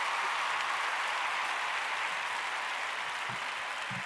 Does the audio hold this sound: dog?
no